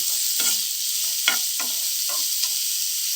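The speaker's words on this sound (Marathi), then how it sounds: "आता आपण हा छानपैकी परतून घेऊया मंद आचेवर" Onion and a little tomato stir-fry over low heat, a steady sizzle of oil beneath repeated spatula scrapes and stirring strokes against the pan, close and without any talking.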